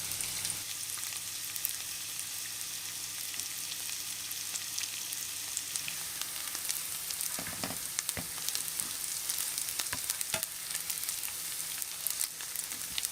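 Onion frying in a pan for a cottage pie, a steady soft sizzle and crackle that runs unbroken throughout, with a few faint clinks and stirring scrapes partway through.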